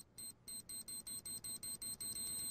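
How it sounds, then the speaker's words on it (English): Rapid electronic beeps from a bomb in an ELEAGUE game, about a dozen short evenly spaced high-pitched pulses that quicken toward the end and merge into a steady tone. "No, it's like a beeping."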